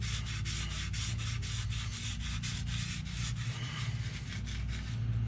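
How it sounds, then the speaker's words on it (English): A Scotch-Brite pad scrubs a Dodge Ram 3.9 or 5.9 engine part during a timing chain replacement, a steady rapid back-and-forth rasping, close and fairly faint, with no voices. "We'll follow that with a Scotch-Brite pad and some brake cleaner."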